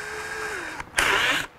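A power drill bores through a car suspension bushing, its motor whining and dropping in pitch as it bogs down, then briefly surging louder before cutting out.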